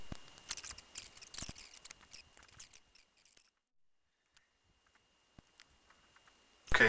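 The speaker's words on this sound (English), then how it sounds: "So I'll start by just cutting off these stems." Scissors snip through plant stems for cuttings: a quick flurry of close, crisp clips and rustles, then quiet with a few faint ticks and a brief bump at the end.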